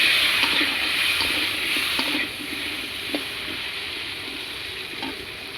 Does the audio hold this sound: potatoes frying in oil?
yes